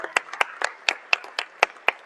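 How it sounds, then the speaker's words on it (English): A small audience gives a panel a brief, sparse round of clapping after a sustainable finance ministerial dialogue, with eight or nine distinct, evenly spaced claps spread across about two seconds. "I would like to give a very, very warm round of applause to all of our panel"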